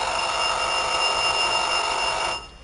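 A kitchen timer on a Vulcan three-deck commercial pizza oven rings loudly and continuously in a steady, bright electronic buzz, close by, then cuts off abruptly near the end.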